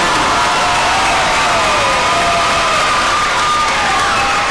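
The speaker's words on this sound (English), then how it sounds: "Nice round of applause for all the state wrestlers, WEM Grizzlies" A gym crowd at a boys' high school basketball playoff game applauds and cheers loudly and without a break, with whoops over a thick wash of clapping honoring the WEM Grizzlies state wrestlers.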